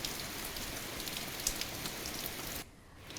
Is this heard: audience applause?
no